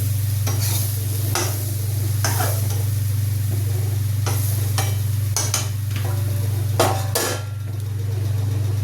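Green chillies stuffed with besan fry in a pan as a spoon turns them, giving a steady sizzle under a constant low hum, broken by several distinct scraping and clinking strokes against the pan.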